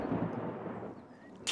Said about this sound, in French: C'était le tonnerre, Peppa.